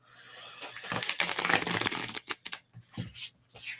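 Tarot cards being shuffled by hand at close range, a run of dense papery riffling and slapping bursts that stop and start in short irregular bunches, with a faint steady hum underneath and no voices.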